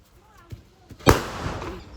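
A single sharp kuruvi vedi firecracker bang from Sivakasi goes off at close range during Diwali, followed by a rushing, crackling tail as it fades, after a few light taps and brief talk.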